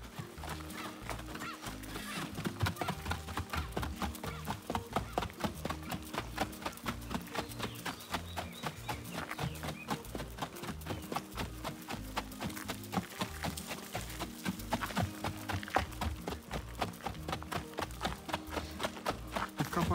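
Hooves of a large mare clip-clop steadily in a regular, close rhythm for the whole stretch, set against a dense, busy background.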